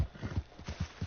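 An Arabian horse in Red Dead Redemption 2 clip-clops along at an even trot, its hoofbeats soft and rhythmic, about five or six steps.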